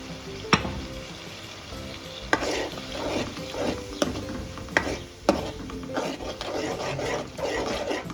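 Spoon stirring a potato gravy curry with coriander-cumin powder and garlic chutney as it fries in oil, a steady sizzle with repeated scraping strokes and sharp clinks against the pot, close and without talking.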